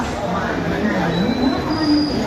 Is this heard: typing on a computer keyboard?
no